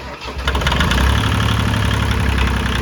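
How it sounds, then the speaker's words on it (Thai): A Kubota L2201 compact 4WD tractor diesel engine cranks briefly and catches, then settles into a steady, loud, close idle with a low rhythmic throb and no talk. "ถ้าดับแล้ว ลองสตาร์ทอีกครับ คราวนี้ไม่ต้องเผาหัว ครับผม เอาแค่คันเร่งลงมา หน่อยหนึ่งก็ ติด แล้วครับ"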